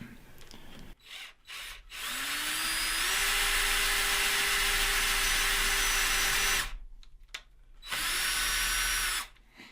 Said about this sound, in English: So now I've got a 4mm drill bit.